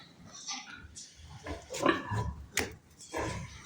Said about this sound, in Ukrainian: Ось такі поросята, їм сьогодні 13-14 е, днів.